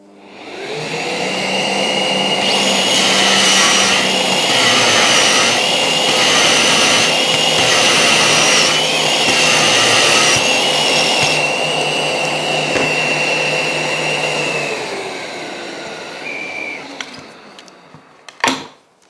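A Parf Guide system drills holes with dust extraction running, giving a loud, steady whine-and-roar for about fifteen seconds with pulsing overtones before it spins down, followed by a sharp knock.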